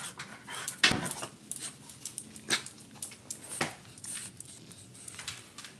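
Dogs panting and snuffling close by outdoors on a hot day, with a few sharp clattery bursts and movement noises scattered through the steady breathing.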